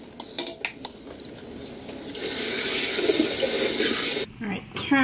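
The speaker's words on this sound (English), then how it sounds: "Alright, turn the water off." A kitchen tap runs water steadily into a sink for about two seconds, loud and close, then shuts off; a few sharp dish and utensil clinks come before and after the flow.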